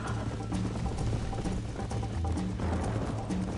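Horse hooves clip-clop steadily in Red Dead Redemption, a loud, continuous rhythmic trotting that runs the whole time with no talk over it.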